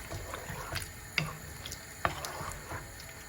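Water from a measuring jug is poured into a pot of aubergine and courgette pasta sauce, a quiet steady trickle with a couple of sharp clinks.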